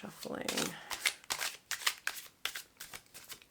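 Tarot cards being riffled and shuffled in quick bursts, a soft fluttering followed by crisp snapping flicks, close and fairly quiet.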